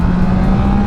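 Engine of a stock Triumph Trident 660 naked motorcycle with its stock exhaust, pulling in 4th gear at around 4,000 RPM and 45 mph. A loud, close, steady drone fills the whole short stretch, with no talking.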